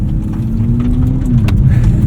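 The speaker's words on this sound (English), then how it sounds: "Tire ASMR. Lots of tire ASMR." Steady low tire roar from a 2024 Nissan Z NISMO driving at night, heard from inside the car as a loud continuous rumble with a faint engine hum and no talking.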